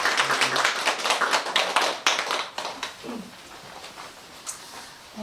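A seated audience at an eighth-anniversary event claps in a burst of distinct hand claps that is loudest at first, then thins and fades out, leaving scattered faint claps and quiet room sound.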